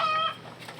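Chickens cluck near a Bisaya-speaking home, with a short burst of bright, close clucking calls that fades into quieter background noise.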